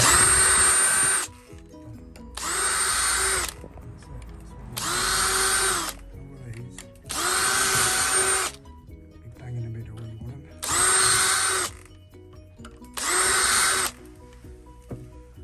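A power drill fitted with a spring-loaded self-centering bit runs in six separate bursts of steady whirring, each roughly a second long, with quiet pauses and brief talk between them.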